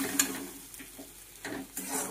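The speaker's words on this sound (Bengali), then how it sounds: "ডিমটা ভেজে নিই।" An egg fries in hot oil in a pan, giving a soft, uneven sizzle with a few louder crackling bursts, fairly faint and with no voices.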